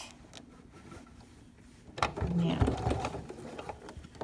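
A sewing machine stitches a zipper into fabric, a buzzing mechanical run that starts partway through and stays close and fairly loud, with a brief spoken word beforehand.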